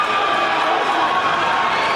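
A crowd cheers steadily at a wrestling dual meet, a loud, continuous roar of many voices with no breaks across the short stretch.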